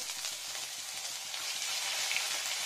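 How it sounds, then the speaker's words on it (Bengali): Lentil dumplings (bori) fry in hot oil with a steady, dense hiss and crackle that swells slightly toward the end, close and continuous, with no voices. "বড়িটা ঠিক করে ভাজতে হবে"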